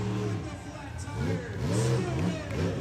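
A monster truck engine revs and roars through thick mud at a night show in Miami, Oklahoma, a loud, rising and falling drone that holds for the whole stretch, with commentary voices mixed over it.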